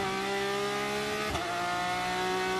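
Onboard a Porsche Supercup race car at Mexico City, the engine drones with a steady, buzzing whine, holding high revs with a brief dip midway.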